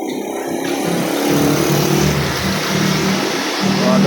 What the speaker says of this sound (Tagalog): Mga daan pa yung mga sasakyan po dyan.